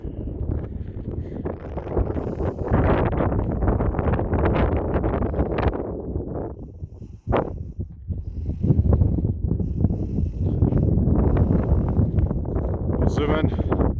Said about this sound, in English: So this is the top of the hill. It's very windy